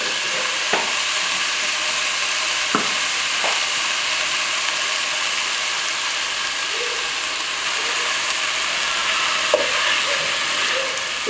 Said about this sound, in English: Give them a nice stir.